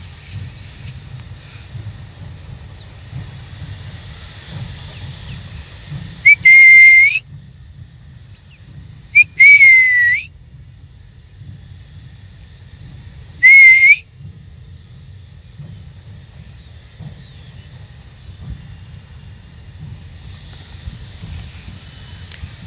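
A person gives three short, sharp whistles to call farm animals on an evening hillside, loud and close with long pauses between them over a low outdoor rumble.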